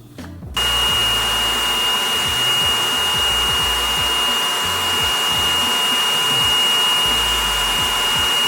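A hair dryer blowing out wig hair switches on after a brief moment and runs as a steady, loud, close whooshing hum with a thin whine, continuing alone without talk.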